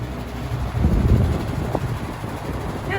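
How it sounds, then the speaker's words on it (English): A 1985-86 Super 3713 20-inch box fan runs slowly with a steady low whir and a loose rattling texture, a small rattle burst near the middle, with no voices. "So it runs, but it's running kind of slow. And it's rattly."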